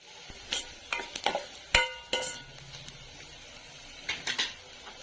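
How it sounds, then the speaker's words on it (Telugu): Thinly sliced onions are tossed into hot oil for egg biryani, giving bursts of sizzling and crackling alongside clinks and scrapes of a utensil against the pan, close up with quiet gaps between bursts and no talking. "ఆయిల్ వేడయ్యాక సన్నగా కట్ చేసుకున్న ఉల్లిగడ్డలు వేసుకుందాం. ఇవి కొంచెం బ్రౌన్ కలర్ వచ్చిన దాకా వేయించుకుందాం."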